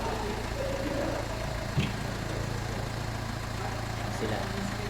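A CRDI diesel engine running at a steady idle, a continuous low, even hum with a faint mechanical knock and a brief clunk partway through, with voices faintly in the background.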